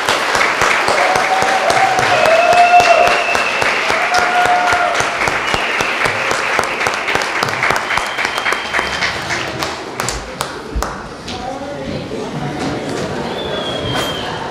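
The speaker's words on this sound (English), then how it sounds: "One last round of applause for our graduates." Audience applause for graduates at the 2016 Burket Education Center graduation ceremony, loud sustained clapping from a large crowd that gradually thins and fades toward the end.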